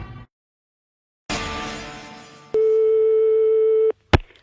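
Telephone line noise after dialing out to call the gendarmes, with a burst of line hiss, then a steady single tone lasting over a second, then a short click.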